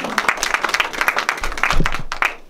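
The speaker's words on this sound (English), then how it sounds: "That deserves a clap." Audience at a community panel event breaks into dense, sustained applause, many hands clapping together at close range for a couple of seconds before it thins out.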